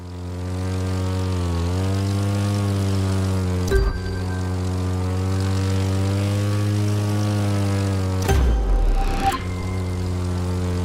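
A propeller airplane drones steadily with a strong, even engine tone as it flies a full roll in the racing game The Crew 2; the pitch bends slightly partway through, and two short bursts of game effects break in.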